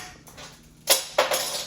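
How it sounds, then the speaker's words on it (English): Small metal screws drop onto a floor, giving two sharp, bright clinks about a quarter second apart over a quiet room. "That was the sound of screws going on the floor."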